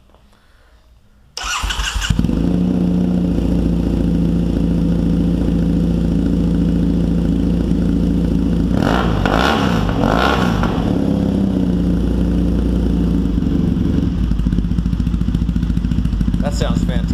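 A Triumph T100 motorcycle engine starts after a short silence, settles into a loud, steady idle, and gets a few throttle blips partway through before idling on.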